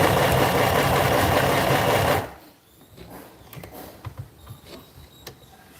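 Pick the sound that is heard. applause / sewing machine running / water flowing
sewing machine running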